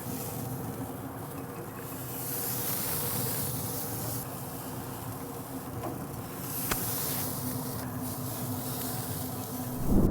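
A pork roast sizzles on a pellet grill, a steady close hiss of searing that holds level throughout with a slight swell at the end.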